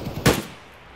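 A single sharp gunshot bursts out in the video game Escape from Tarkov, a brief loud crack that decays quickly into quiet.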